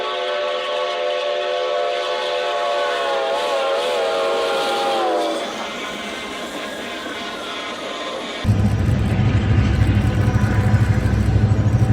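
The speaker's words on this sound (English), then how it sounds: "Firefighters rushing to a 5-alarm blaze cross paths with a steam excursion in Tampaka." A steam excursion train sounds a long, wavering whistle as it passes, followed by loud rumbling rail and engine noise as it rolls close by, with no talking.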